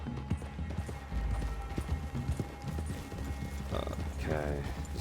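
Horse hooves clip-clop in the video game Red Dead Redemption, a steady close walking rhythm under someone talking, with a brief whinny near the end.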